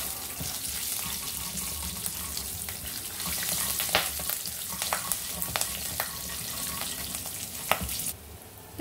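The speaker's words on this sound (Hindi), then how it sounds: "इसमें डाल देंगे स्लिट की हुई ग्रीन चिल्लीस," Slit green chillies and dal sizzle in hot oil for masala dosa filling, a dense, loud, continuous frying hiss with scattered pops and occasional stirring clicks, close up, without speech.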